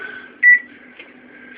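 An oven timer being set gives short electronic beeps, one clear beep followed by a quieter one and another at the end, over a low steady appliance hum.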